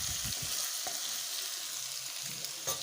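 Mixed vegetables sauté in a pan after asafoetida is added, producing a constant crackling sizzle with a few light stirring knocks near the start and end, and no speech.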